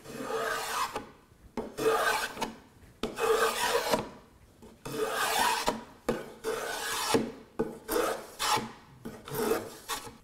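A rasp works a chamfered wooden edge of a country corner cabinet, rounding it over. Rhythmic, coarse scraping strokes repeat about ten times, close and moderately loud, with brief gaps between passes and no talking.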